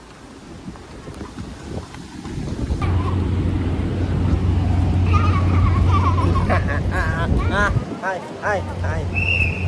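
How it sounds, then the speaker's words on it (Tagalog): Strong wind gusts roar and buffet the microphone outdoors, a loud rumbling rush that builds and stays heavy, with people talking over it in the second half. "Ito lakas ng hangin."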